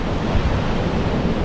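Pacific Ocean surf washes onto a remote beach at sundown, a broad, continuous roar of breaking waves mixed with wind buffeting the microphone, loud and close with no voices.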